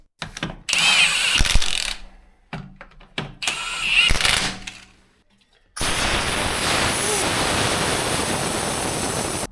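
A power tool spins lug nuts onto the rear wheel of a Mercedes ML 250/350, heard close as several short whirring bursts, followed by a long stretch of steady, loud broadband noise.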